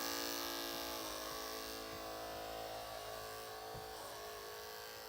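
An electric hair clipper buzzes steadily and close up throughout a short clipper cut for an Ivy League style with a high fade, a continuous even drone with no pauses.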